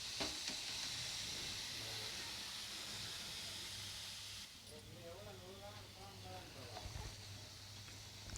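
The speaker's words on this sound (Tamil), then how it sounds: "அடியில் பிடிக்காமல் நல்லா கிண்டி விட்டுக்கோங்க." Jaggery melting over a low flame in a pan gives a steady broadband sizzle and hiss, with soft stirring scrapes throughout; a low hum runs underneath and the texture thins slightly partway through.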